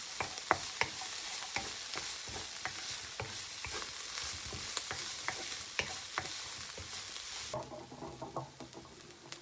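Ingredients for a drumstick-leaf (moringa) stir-fry crackle and sizzle together in a pan over low heat, with steady frying hiss and frequent sharp clicks of stirring; the sizzle softens toward the end, and no one speaks.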